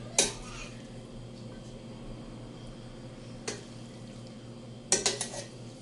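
A spoon stirs spaghetti with chicken in a cheese cream sauce in a pot, giving a few sharp metallic clinks against the pot: one at the start, one midway and a quick cluster near the end, over a quiet room hum.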